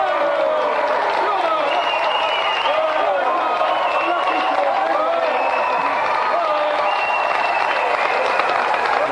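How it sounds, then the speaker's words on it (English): Sustained applause and cheering from a game show studio audience for a competitor, loud and steady throughout with whoops rising above the clapping. "a big round of applause for our gallant competitor, George Zenapontos!"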